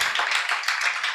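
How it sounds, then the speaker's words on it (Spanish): Church congregation clapping loudly during an evening worship service, a dense steady wash of many hands lasting a brief moment, close and full with no voices on top. "fuertes aplausos"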